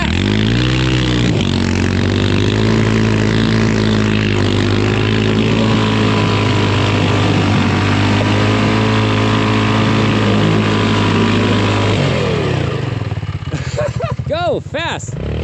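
A Polaris RZR 200 side-by-side engine revs at full throttle on a trail, a loud continuous drone held for about twelve seconds before it cuts away to fainter, fluctuating engine noise.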